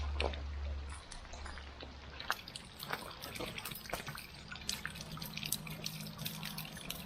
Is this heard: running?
yes